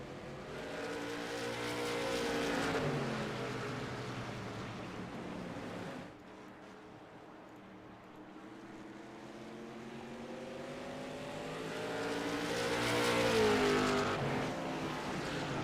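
Short track race cars at Thompson Speedway roar past in a pack, engines swelling loud near the start, easing briefly, then building again to a close, high-revving pass.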